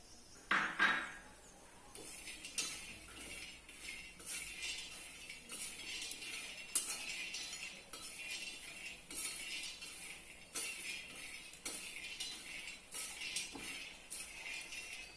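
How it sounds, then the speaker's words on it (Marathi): Raw peanuts dry-roasting in a pan in a home kitchen, the first step for sesame-jaggery flatbread, give a steady run of rattling clinks and spatula scrapes that continue without pause, close by and with no one talking. "यासाठी आपण सर्वप्रथम शेंगदाणे भाजून घेऊया"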